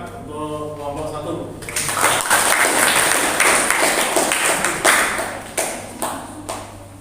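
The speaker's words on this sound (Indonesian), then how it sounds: "Kita kasih tepuk tangan untuk kelompok 1" Classroom applause for a presenting student group, a broad burst of clapping that swells after a short pause and then fades, with hand claps thinning toward the end and a voice present early on.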